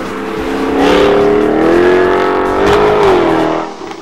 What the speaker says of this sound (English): the sound from those quad pipes is one of the reasons I kept the hood down